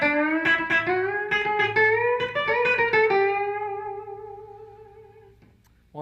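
Electric guitar playing a chicken pickin lick in E, with a quick run of snappy, twangy plucked notes that settles into a sustained note fading out, heard alone.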